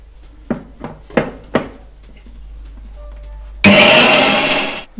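A kitchen mixer grinder pulsing onions and tomatoes for dal makhani: several short knocking thumps as the jar is set and tapped, a quiet pause, then a loud, dense whirring roar of the blades running for over a second before stopping.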